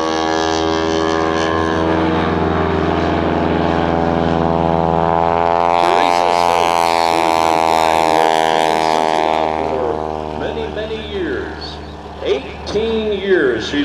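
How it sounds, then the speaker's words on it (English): A big Showcat biplane's engine and propeller drone loudly and steadily at the 2007 Abbotsford International Airshow, the pitch swelling and rising mid-clip before easing off, with an announcer talking over it. "She's been flying with Gene on the wing of that big Showcat airplane."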